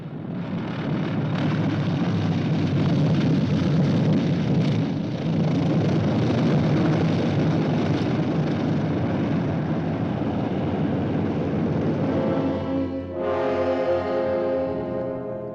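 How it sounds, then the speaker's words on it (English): A troop carrier airplane coming in to land, a loud, continuous engine roar and rumble, with a tonal droning engine pitch rising out of the noise near the end. "Troop carrier US 11034, you may land on runway 170."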